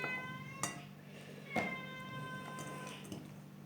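A cat meows several times, short distinct cries spaced about a second apart, fairly close in a quiet room.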